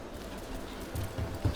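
Soft low cooing from birds in the Dragon Age: The Veilguard video game, a few brief throaty coos near the end over a murmuring ambient background.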